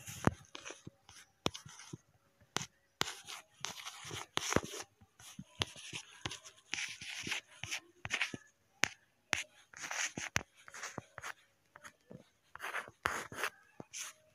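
A pen scratches across exam paper while an answer is written, steady bursts of scribbling strokes with short pauses between words, close and clear.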